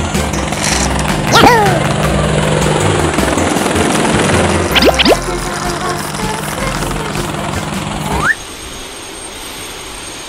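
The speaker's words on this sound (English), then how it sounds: "Helicopter." A children's toy helicopter gives off a loud, continuous whirring buzz with rattling gear-like clicks, mixed with chirpy electronic effects and a few rising whistles before the noise drops away.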